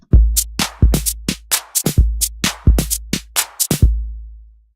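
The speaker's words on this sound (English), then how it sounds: "So I'm adding 909 snare at the bottom" A Roland 909 snare sample programmed in an FL Studio pattern, a dozen sharp bright cracks in a quick syncopated rhythm over a deep thumping kick, loud and close with no talk.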